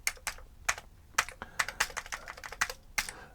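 Fingers typing on an Amiga computer keyboard, a quick irregular run of crisp, close key clacks with short pauses between bursts and no talking.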